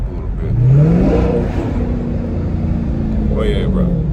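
Aftermarket exhaust on a car revving up, a loud rising engine note that settles into a steady drone, with a voice talking over it.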